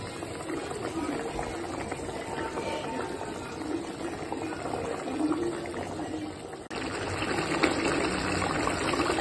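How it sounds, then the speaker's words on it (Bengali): Bhola fish curry with eggplant bubbles at a steady boil in a pot on a gas stove, a close, continuous simmering hiss and burble that holds even throughout. "দেখো আমার তরকারি রেডি, ফুটছে"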